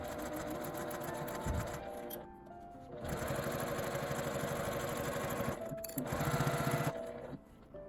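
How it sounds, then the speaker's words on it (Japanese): A sewing machine stitches a zipper pouch in long continuous runs, its rapid mechanical whir stopping briefly twice before starting again, close and steady with no voices. "このクリップを留めたまま端から7ミリくらいのところを縫います"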